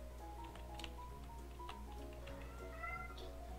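Domestic cat meowing for attention, a few quiet, drawn-out meows close by over a low steady hum with faint ticking.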